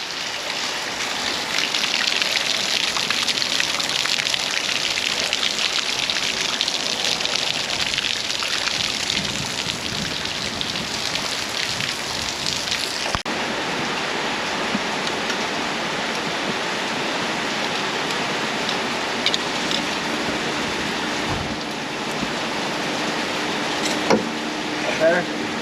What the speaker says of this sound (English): It just will not stop raining.